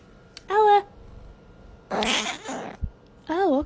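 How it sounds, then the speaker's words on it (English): Ella the cat gives short meows, one near the start and another at the end, with a burst of breathy voice sound and a brief knock in between. "She has mini meows."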